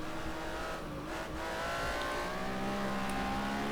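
A race car brakes hard going downhill into a bend, its tyres squealing over a loud, steady engine roar with a sustained high screech running through the whole stretch.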